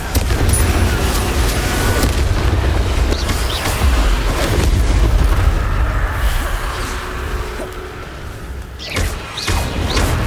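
Dense, loud fiery blasts from the Confringo fire spell in Hogwarts Legacy, rumbling continuously with crackling impacts and a brief surge near the end.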